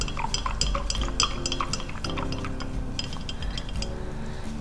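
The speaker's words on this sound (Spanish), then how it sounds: "Seguimos revolviendo." Glass and metal clinking as a utensil stirs a seawater mixture being prepared for ORMUS, steady close-up tapping and swirling throughout with no talk.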